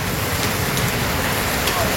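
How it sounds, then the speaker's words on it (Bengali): Heavy rain with strong wind lashes a village in Bangladesh, a dense, steady roaring hiss that stays even and unbroken throughout with no voices. "বুঝতে পারতেন যে বৃষ্টি কি পরিমাণে বৃষ্টি হইতেছে। আর হাওয়া বাতাস বেশি, অতিরিক্ত বাতাস।"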